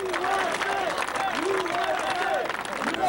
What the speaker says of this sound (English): Let's give a round of applause to Congressman Ben Gilman, Foreign Affairs Committee.